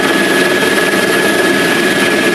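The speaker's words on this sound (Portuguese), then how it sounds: "Nós estamos agora dentro do helicóptero da Polícia Militar do Espírito Santo" Loud, steady rotor and turbine roar inside a Military Police helicopter of Espírito Santo in flight, a continuous dense drone with a thin high whine, filling the cabin without a break.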